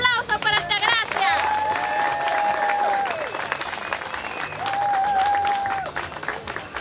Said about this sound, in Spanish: ¡Un aplauso para Altagracia!